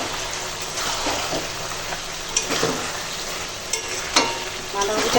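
Cabbage with ground spices and garam masala is stirred and fried in a pan, giving a steady sizzle with intermittent scraping clatter from the spatula.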